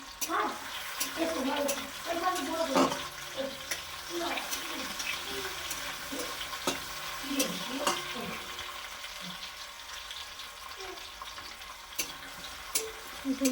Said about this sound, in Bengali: ভালো করে একটু বেজে নেবে এগুলো।